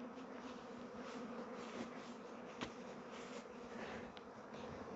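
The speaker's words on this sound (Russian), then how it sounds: "Тут к нам рой пришел." Swarm of honeybees buzzing around a log hive, a dense continuous hum close by with individual bees darting past, no voices.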